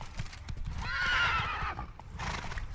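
A horse in the Witcher 3 video game lets out one loud, clear whinny, with galloping hoofbeats thudding steadily underneath, close and prominent.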